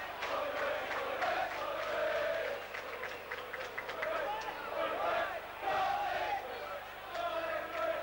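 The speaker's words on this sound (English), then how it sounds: "the crowd cheering for Colin West" A football stadium crowd at a Chelsea versus Everton match roars and cheers steadily for substitute Colin West, a dense, sustained wall of voices with rising shouts and chants swelling throughout.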